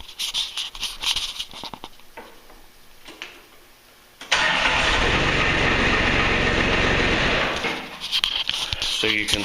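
A diesel engine with a repaired Nippondenso starter, fired with throttle and glow plugs in a cool shop, cranks over and catches into a loud, steady running roar after quieter handling sounds and brief talk.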